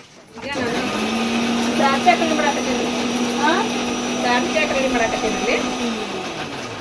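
A kitchen mixer grinder whirs steadily as it grinds coconut, a loud, even motor drone that runs for several seconds, with people talking over it.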